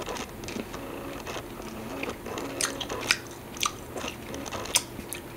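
Sherbet-flavoured pearl candy being chewed close up, a steady run of crunching and soft crackling bites with sharper snaps now and then over faint background hiss.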